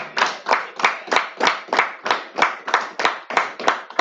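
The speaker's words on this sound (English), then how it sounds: "Give him another round of applause, everybody." An audience claps in a steady rhythm, about three claps a second, at a church teaching session, loud and close with no voices over it.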